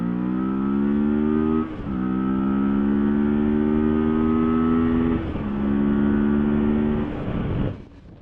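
Kawasaki Versys 650 motorcycle engine pulling hard in second gear from about 50 km/h, rising steadily in pitch through two gear-like dips around two and five seconds, loud and close with no talking, then cutting off at the end.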